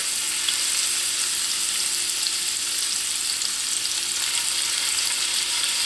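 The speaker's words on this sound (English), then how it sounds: "we're going to just sear it." Dried, salted beef tips sear in a hot pan, producing a continuous loud, steady sizzle with no talking.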